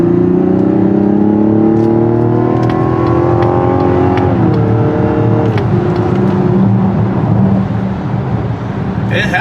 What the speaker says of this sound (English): The engine has a good sound to it.